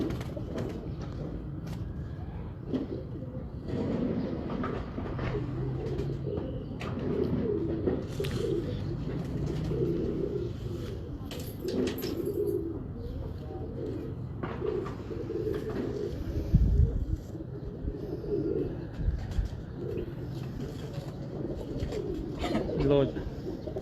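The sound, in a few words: pigeons cooing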